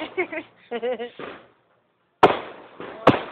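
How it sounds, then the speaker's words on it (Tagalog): Two sharp bursts of fireworks at a fireworks display in Marikina crack out after people talk, the second booming louder, each trailing into a rumbling decay. "Ito pala ang fireworks display ng Marikina."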